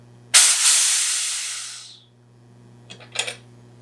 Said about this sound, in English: And purge out the CO2.